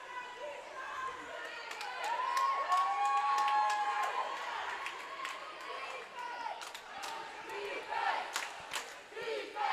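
Home crowd cheering at a girls water polo game at an indoor pool, a burst of shouts, whistles and calls from the stands, fairly distant and reverberant, rising and falling over several seconds.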